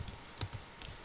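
Keys tapped on a computer keyboard while entering data directly into a spreadsheet cell, a few crisp clicks spaced irregularly, close and alone with no voices.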